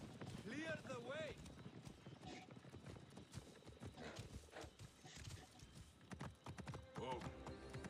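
A horse gallops with steady rapid hoofbeats in Assassin's Creed: Origins, along with a whinny, under ongoing talk and game sounds.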